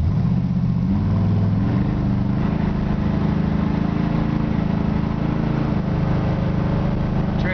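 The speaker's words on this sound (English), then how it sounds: "it does have a pretty stout engine" A 1960 Chevrolet Bel Air with a stout engine idles and runs steadily nearby, its deep, uneven rumble continuous and fairly loud throughout with slight shifts in pitch.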